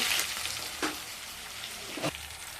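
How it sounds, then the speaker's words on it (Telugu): Hot oil sizzling steadily as curry leaves and green chillies are tempered for Bathukamma festival rice dishes, with two brief louder crackling bursts as ingredients hit the pan. "కరివేపాకు వేసి మగ్గనియాలి తర్వాత మనం పచ్చిమిర్చి వేసుకోవాలి పచ్చిమిరపకాయలు కూడా యాడ్ చేసుకోవాలి"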